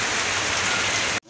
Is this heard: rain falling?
yes